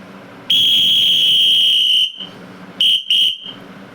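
A whistle sounds the signal used at a Sangh shakha gathering: one long, shrill blast lasting over a second, then two short sharp blasts in quick succession, loud and close with a faint room hum between.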